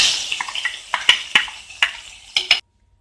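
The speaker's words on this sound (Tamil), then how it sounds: "இப்போ நம்ம தாளிச்சது தூக்கி குழம்புல ஊற்றிக்கலாம்." Hot mustard seed tempering with a dried red chilli poured into chicken curry: a brief close hissing sizzle, then several sharp metallic clinks of spoon against pan before the sound cuts to silence.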